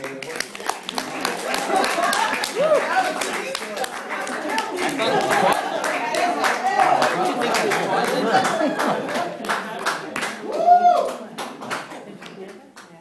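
At a café spoken-word performance, scattered audience claps and snaps ripple through murmuring chatter, irregular and moderately close, with voices talking throughout.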